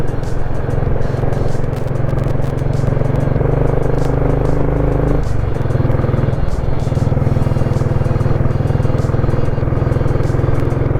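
A motorcycle rides along a wet monsoon road near Maravanthe beach, its engine humming loud and continuous with wind and road noise, and a brief shift in pitch midway.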